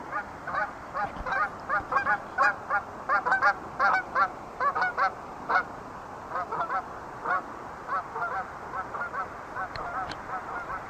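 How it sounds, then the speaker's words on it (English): A flock of geese honks repeatedly in quick, overlapping bursts, moderately distant and steady throughout, with no talking. "Got some geese."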